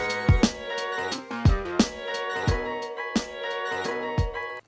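An MPC Live drum kit from an expansion runs through an air maximizer effect, with punchy kicks and snappy hits repeating in a steady beat over sustained tonal layers, close and clear with no talk.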